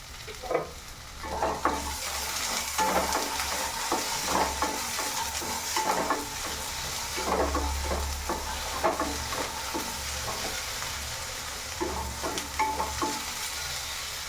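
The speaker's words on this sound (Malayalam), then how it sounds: "ഇതുപോലെ വെണ്ടയ്ക്ക കട്ട് ചെയ്തെടുത്തിട്ട് അതിനെ നന്നായിട്ട് വഴറ്റിയെടുക്കുക" Sliced okra and green chillies sautéing in coconut oil, a continuous close sizzle with regular stirring scrapes and occasional light clinks of the spoon against the pan, no voices.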